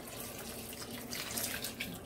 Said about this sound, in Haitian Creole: Nous allons laver, mettez de l'eau chaude.